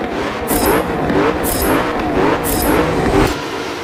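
A Koenigsegg Agera race car engine roars at Circuit de Barcelona-Catalunya in Forza Motorsport 7, a loud steady drone that swells in repeated waves as it revs, with no talking over it.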